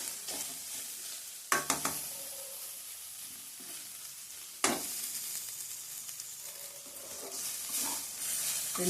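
Masala frying in a pan for a prawn and broad bean kurma, an even hissing sizzle with two sharp spatula scrapes and stirring clatter, close by, with no talking.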